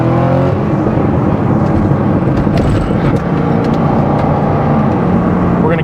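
A naturally aspirated Corvette C6 Z06 with an LS7 V8 revs hard as its back end slides out, a loud, continuous, close engine roar with a rasping exhaust note and no talking.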